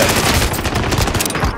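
Rapid automatic gunfire in Call of Duty: Modern Warfare, a dense, loud burst of overlapping shots rattling steadily with no pauses.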